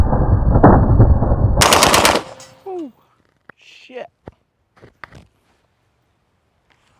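A Genesis Arms Gen 12 magazine-fed shotgun fires a rapid, loud string of close shots lasting about two seconds, then quiet follows with a few brief handling sounds and voices.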